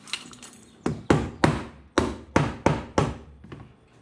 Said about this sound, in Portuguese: vou usar a marretazinha de borracha.